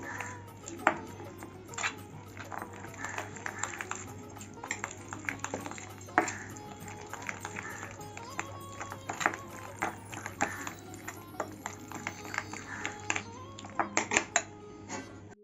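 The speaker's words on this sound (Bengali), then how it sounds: "মশলাটা ভালো করে মিশিয়ে নিচ্ছি" Spice masala with mustard oil being mixed for chicken roast: close, irregular clinking and scraping of a spoon against a metal bowl, with soft wet squishing between the taps.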